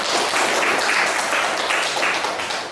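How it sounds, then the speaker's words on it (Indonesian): A university class claps for a student who asked a question during a public administration lecture. The brief, fairly close burst of clapping lasts under three seconds before tapering off. "Kita tepuk tangan sama dia."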